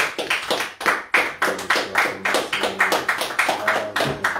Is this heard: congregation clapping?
yes